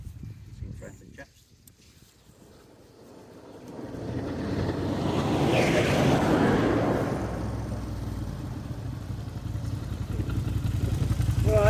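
A sidecar motorcycle on an off-road trial passes by, its engine rising from faint to a loud, close rumble and then holding steady, with wind buffeting the microphone.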